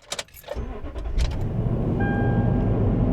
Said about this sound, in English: Now we're going to go into my other car and start that cold